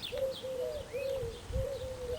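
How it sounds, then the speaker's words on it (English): Baby doves calling softly, a run of thin, repeated wavering notes close by over a quiet outdoor background. "Little baby doves."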